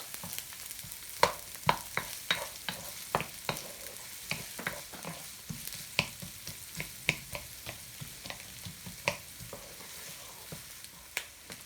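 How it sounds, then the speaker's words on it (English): Green vegetables and onions fry in a pan for Indonesian mee goreng, a steady sizzle broken by frequent sharp clicks and scrapes of stirring, close and fairly loud with no talking. "So we're going to do batches, so I'm just going to fry half."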